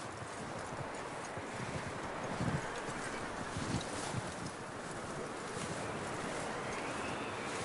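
In a video game, a horse's hooves clip-clop at a steady walking rhythm over a wind-like outdoor ambience, fairly close and moderately loud.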